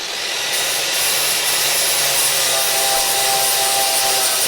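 A flap disc on an angle grinder smoothing a weld on a crew cab Charger under restoration, a loud, steady, continuous abrasive whine and rasp held close throughout.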